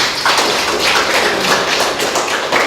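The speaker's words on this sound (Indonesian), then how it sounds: "Aplaus untuk Rizky" A classroom audience applauding, a dense, continuous patter of many hands clapping at a steady loud level with no speech.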